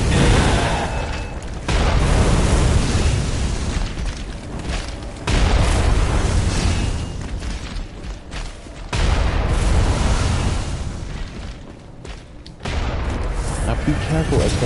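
Church cannon blasts from a nightmarified hunter in the Bloodborne game's Hunter's Nightmare area: several loud, heavy booms, each a sharp hit that rumbles away before the next one lands.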